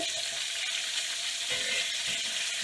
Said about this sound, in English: You take your butter, I use Smart Balance, and you throw it in. Start sauteing it with a little bit of butter.